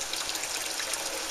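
A steady stream of boiling water pours continuously into a bowl with molasses for barley bread, a soft broadband splashing rush with no talking.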